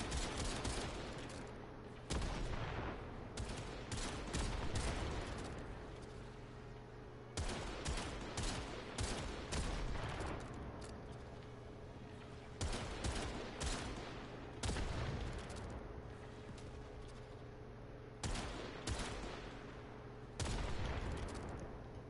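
Repeated bursts of rapid gunfire and explosive shots crackle in clusters, with a constant low hum underneath.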